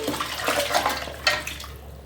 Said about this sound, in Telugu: ఇప్పుడు నేను ఈ ముక్కలు ఇంకా సూప్ కూడా వేస్తున్నాను